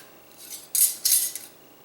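A bottle of hot sauce with pieces of ginger inside is shaken close up in two short, bright sloshing rattles, each lasting about a quarter second, with no voices.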